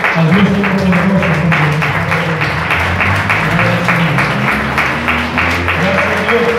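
Church congregation giving a loud round of applause to Christ during a sermon, rapid clapping throughout with shouting voices and lingering musical tones underneath, close and sustained.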